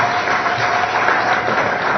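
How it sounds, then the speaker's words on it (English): Steady applause from a large audience at an official results-release ceremony, a dense wash of clapping that runs unbroken and fairly loud, without any speech over it. "Can you even clap louder for that?"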